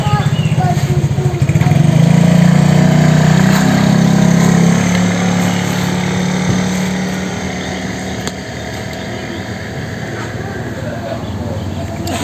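Two-stroke motorcycle engine with its original exhaust idling close by, a steady loud drone that swells over the first few seconds and then settles slightly quieter, with no voices over it.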